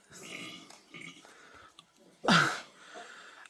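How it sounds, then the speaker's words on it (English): A daughter burps once in another room, a short, fairly loud guttural belch standing out from quiet background rustling and faint sounds. "that was my cochina of a daughter burping in the other room"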